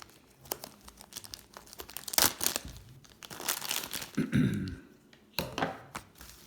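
The packaging around a Saddleback leather medium ID bifold wallet is torn open, with close crinkling and rustling of wrapping and a few crunching tears in irregular bursts, while a voice talks quietly at times.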